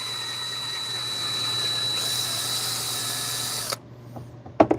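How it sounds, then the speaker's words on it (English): A power drill whirs steadily for several seconds with a high motor whine while drilling into wood at an angle, then stops abruptly, followed by a few light clicks and taps. "By drilling in at an angle here."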